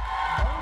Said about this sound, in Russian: Друзья, давайте аплодисменты.